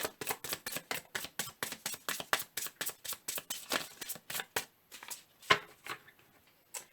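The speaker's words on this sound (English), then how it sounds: "Okay, last shuffle." Tarot cards being shuffled in quick, steady rhythmic snaps and riffles, close up, with no talking.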